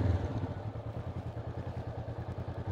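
Motorcycle engine during a slow-riding lesson, a steady low pulsing idle-like throb with even rapid rhythm, close and moderately loud, no talk over it.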